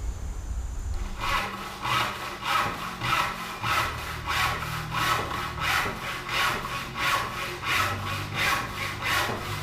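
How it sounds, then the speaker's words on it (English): Handsaw rough-cutting wood on sawhorses for a hand-tool mission table, a steady rhythm of about a dozen close, rasping push-pull strokes. "next step is the rough sawing of everything"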